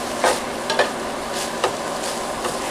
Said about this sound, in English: We stir this a little bit